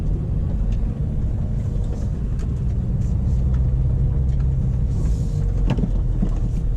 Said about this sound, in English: I like listening to the engine sound. It's really great having the engine behind you.